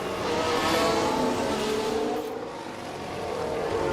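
A Formula 1 car overtaking at the Azerbaijan street circuit in F1 Manager 24: a loud, sustained high-revving engine whine that swells and then eases slightly, with no voices.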